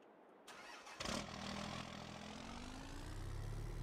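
Truck engine starting in the Farming Simulator 22 video game: a click, a cranking burst, then the motor catching and settling into a steady low idle, heard alone and fairly quiet.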